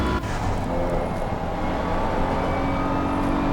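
Race car engine in Assetto Corsa Competizione on the Nurburgring, a steady loud drone throughout as the driver holds the throttle, with no voices over it.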